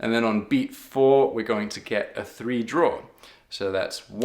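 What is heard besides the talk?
No everyday noise stands out behind the speech.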